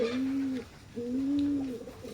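Two low, throaty coos from a pair of teddy pigeons, each a soft rolling call lasting about half a second, close by with a quiet pause between them.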